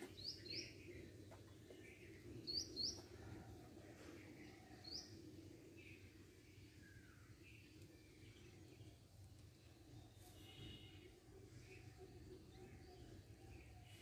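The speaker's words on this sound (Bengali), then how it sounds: "পাখিদের কোলাহল," Birds chirp faintly in a patch of green countryside within a city, with short scattered calls over a low, steady background hum.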